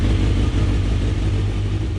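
A car powered by a motorcycle engine drives past at a constant pace, a steady low engine drone with road rumble, fairly loud and continuous.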